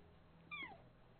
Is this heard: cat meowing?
yes